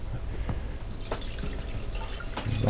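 A tumbler of water poured into a Harbor Freight ultrasonic cleaner tank, trickling and splashing close by with small drips throughout, no voices.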